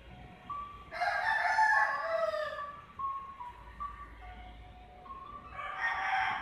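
A rooster crows loudly and close by, with shorter cackling calls following and another crow rising at the end.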